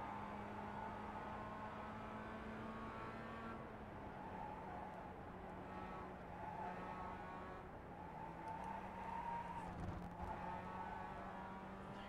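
Mazda MX-5 race car in the iRacing simulator at Charlotte Roval, engine droning steadily with pitch dropping and rising through downshifts and acceleration, continuous and fairly loud.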